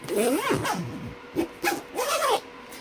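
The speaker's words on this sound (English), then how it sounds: "This one also zips easily." The outer bag of an Oreck vacuum is zipped: a few quick rasping zipper pulls, close and fairly quiet, with short pauses between strokes.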